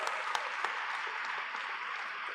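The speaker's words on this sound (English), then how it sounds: "could we have a huge round of applause for all the 7 session coordinators?" Steady, dense applause from a conference audience at the World Hindu Congress 2023 fills the whole stretch, with a few sharper individual claps standing out near the start.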